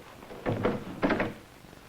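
Someone rattles and thumps a locked door in a radio drama, two short bursts of knocking and handle-jiggling close by, with a pause between and no voices.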